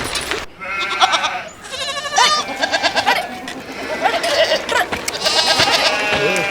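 Sheep on a road bleat repeatedly, several overlapping cries close by, one after another in an uneven chorus against light background noise.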